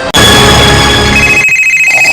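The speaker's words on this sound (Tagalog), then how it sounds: "Akong tubagon ang tawag ni Liya." A phone rings loudly with an incoming call, a steady electronic ringtone that fills the clip alone, then changes to a higher tone near the end.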